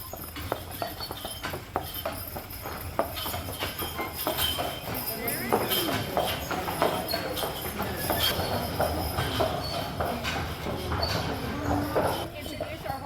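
Horses' hooves clip-clop in a busy outdoor park celebration, an irregular run of sharp knocks at mid distance under steady crowd chatter and background noise.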